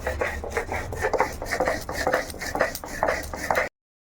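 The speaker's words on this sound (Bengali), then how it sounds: "আর এখন আমি বাটছি কিন্তু, কি বললাম, জিরে আর ধনে" Cumin and coriander seeds being ground on a grinding stone, a rhythmic rough rubbing and rasping, steady back-and-forth strokes close up, ending abruptly in silence.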